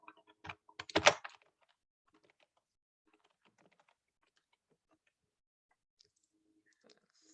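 A short cluster of sharp computer clicks while saving a file in Photopea, packed within about a second and then followed by near silence with a few faint ticks, close and quiet.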